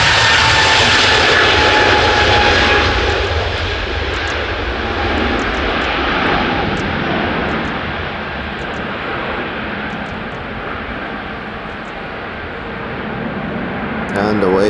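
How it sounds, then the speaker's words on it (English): ATR turboprop airliner taking off at Edinburgh airport, a loud steady engine roar with propeller drone that swells and eases slightly over the span, heard from a distance in open air. "There's that ATR I was talking about earlier."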